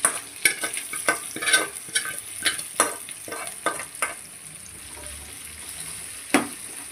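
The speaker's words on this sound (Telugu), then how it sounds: "ఇప్పుడు దీంట్లో మనం ముందుగా పెట్టుకున్న బ్లడ్ ఫ్రైని వేసేద్దాం" Blood fry tipped into fried onions in a pan on medium flame, crackling sizzle under repeated sharp scrapes and clanks of a spoon stirring, close and rhythmic with a final knock.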